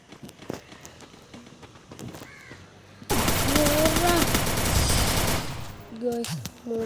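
Rapid gunfire rattles out in a shooting video game, a dense, loud burst lasting a couple of seconds, with a voice talking before and after.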